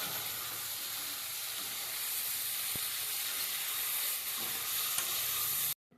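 Desi bagda prawns fry in a pan for a curry, giving a steady, close, even sizzle and hiss that runs without a break until it cuts off abruptly just before the end.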